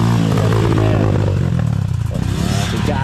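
Loud, close motorcycle engine on a trail ride in Bugallon, Pangasinan, with steady droning revs and clattering, scraping rattle from the rough ground, no voices.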